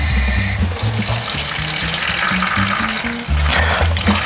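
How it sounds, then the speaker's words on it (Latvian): Water pours steadily into the water tank of a robot floor cleaner, a continuous splashing fill with a faint low hum beneath it, close and fairly loud throughout. "Šeit ir tā tvertnīte, kur var ieliet ūdeni."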